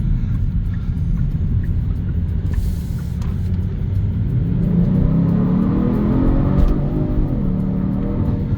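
A 2024 Genesis G70's loud, rumbling engine accelerates hard in comfort mode, the revs climbing then dropping and climbing again as the transmission kicks down, heard from inside the vehicle.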